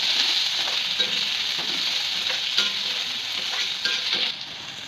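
Onions frying in a pan with boiled chickpeas and peas just added, giving a steady, close hiss of sizzling oil broken by scraping stir strokes, then easing slightly near the end.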